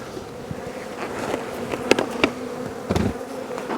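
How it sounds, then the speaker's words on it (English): Honey bees buzzing around an open beehive being closed up with a lid, the insects agitated, with a steady droning hum and several louder passes of individual bees close by. "these bees kind of got riled up a little bit"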